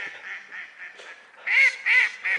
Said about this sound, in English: the ducks think it's pretty funny